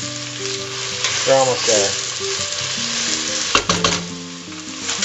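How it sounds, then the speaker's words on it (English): Onions sweating in a pan for ratatouille give a steady sizzle with faint stirring and a few sharper clatters near the end, while a voice speaks briefly over the cooking. "So I'm just going to sweat these down a little bit before I add the garlic."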